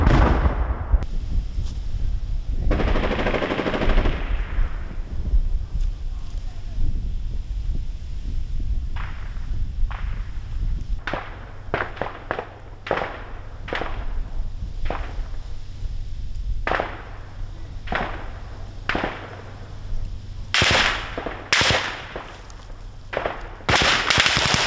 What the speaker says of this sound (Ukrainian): Чуєте, стріляють. Це вогонь якраз по нас.